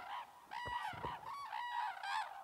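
Red-crowned cranes calling in a Japanese wetland, giving loud, clear, honking trumpet-like calls in quick overlapping bursts, close and prominent over a quiet background.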